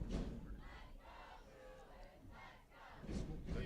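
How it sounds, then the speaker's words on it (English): A crowd at a varsity high school football game on senior day roars and cheers after a win, loud surges at the start and end with a sustained murmur between. "The crowd is still hyped here."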